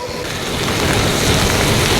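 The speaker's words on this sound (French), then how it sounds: "Il pleut là" Steady rain during a gravel bike ride in a forest, a dense wash of noise that swells slightly and stays loud and close throughout.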